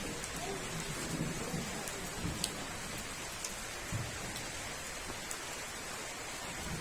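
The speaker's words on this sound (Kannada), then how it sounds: "ಈ ಕಾಲದಲ್ಲಿ ಇಷ್ಟೊಂದು ಮೋಡ ಕಟ್ಟಿಕೊಂಡು ಮಳೆ ಪ್ರಾರಂಭ ಆಗ್ಬಿಡ್ತು" First rain of the year falling steadily outdoors among mango and other trees, a dense continuous hiss of rainfall with faint low rumbles of distant thunder and no voices.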